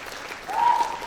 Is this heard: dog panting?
no